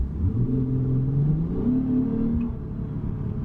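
Lexus IS350 V6 engine pulling at low revs around 1200 RPM in Sports Plus mode, a close, steady hum whose pitch slowly rises and then settles, with faint road whir beneath.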